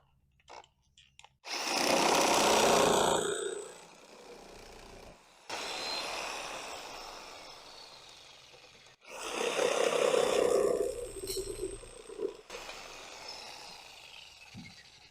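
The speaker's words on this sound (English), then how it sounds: "Now for the third saw to finish off this cut." A power saw finishes a cut in wood for a chicken coop, roaring in two long loud bursts with a quieter whining stretch between them, close by, then winding down to clatter.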